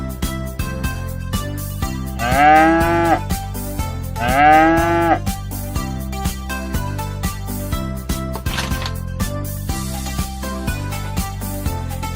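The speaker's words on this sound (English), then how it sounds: "cow." Cow mooing over cheerful children's music about farm animals, two long drawn-out lowing calls a couple of seconds apart, loud and close, with the backing tune continuing afterward.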